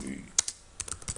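Keystrokes on a computer keyboard doing copy and paste shortcuts, heard as a few sharp isolated clicks spaced apart, fairly quiet in a still room.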